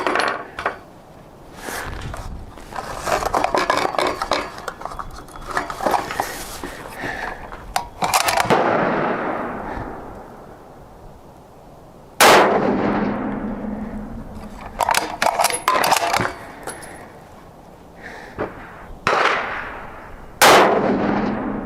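Several sharp rifle reports from a new 6.5mm Creedmoor rifle at an outdoor shooting range, each with a long ringing decay, separated by quieter metallic clicks and handling noises.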